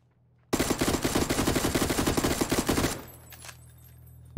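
Sustained rapid automatic gunfire in PUBG on the Taego map, a dense burst of evenly spaced shots lasting about two and a half seconds, then fading into quieter game ambience with a faint later pop.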